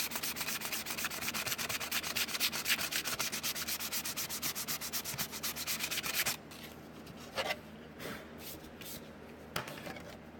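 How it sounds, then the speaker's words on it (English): A styrene sheet is hand-sanded in rapid, rhythmic rasping strokes for several seconds, close and loud, then the scraping stops and a few quiet scuffs follow. "Sand both sides"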